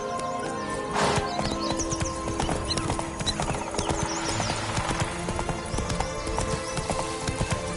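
Hoofbeats from the horse Roach in The Witcher 3: Blood and Wine, a steady clip-clop rhythm at walking pace, close and clear, with a brief whinny near the start and game ambience underneath.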